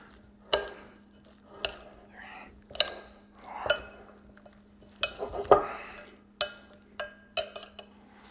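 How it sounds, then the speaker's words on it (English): A spoon stirs a pot of salami dish, knocking and scraping against the pot in about a dozen distinct clinks spread unevenly, close and moderately loud over a low steady hum. "get our spoon, do one final stir"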